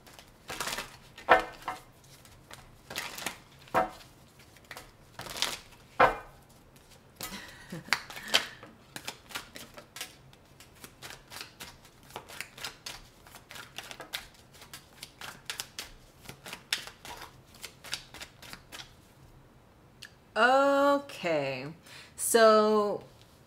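Tarot cards from a double deck are shuffled and handled in a burst of crisp riffles and taps, followed by a stretch of talking near the end.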